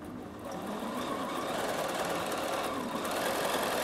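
A Bernina sewing machine runs with its stitch regulator engaged, giving a steady, fast, close-up mechanical hum that lasts without a break.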